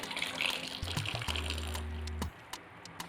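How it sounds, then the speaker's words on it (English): Hot water pours steadily into a pot of carrots set to boil, a close, continuous splashing stream that stops abruptly near the end, leaving quiet room tone. "Add in hot water."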